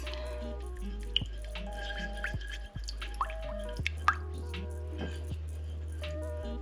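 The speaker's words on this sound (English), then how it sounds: "And then just mix it up. Mix, mix, mix." Homemade natural deodorant mixture being stirred in a container, soft wet squishing and dripping sounds with a few small clicks of the utensil, close and fairly quiet, over a low background hum.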